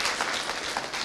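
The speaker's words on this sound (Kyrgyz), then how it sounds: "Жакшы, кол чаап коебуз." Applause from an audience at a youth discussion event in Bishkek's School No. 7 hall, a steady fairly quiet wash of many hands clapping, continuous and without talk.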